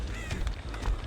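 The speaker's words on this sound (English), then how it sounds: "Why do I hear birds?" Birds honk in a goose-like way, several short nasal calls in quick succession over a low rumbling background, fairly close and clear.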